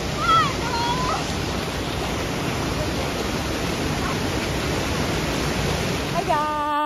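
A waterfall at an outdoor shower spot in Nairobi, Kenya roars as a dense, steady rush of falling water, loud and close throughout, with brief high-pitched voices squealing over it at the start and end.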